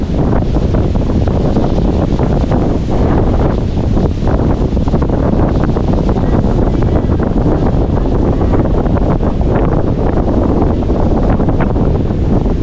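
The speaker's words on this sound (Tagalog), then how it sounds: "Lakas ang hangin" Loud, steady wind roars and buffets the microphone without pause, a dense rushing noise with gusty surges and no voices, strong enough to damage a hut roof.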